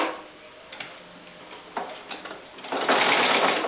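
Sewing machine stitching binding onto a quilt, a soft rapid mechanical ticking that starts and stops, then runs faster and louder toward the end, close by.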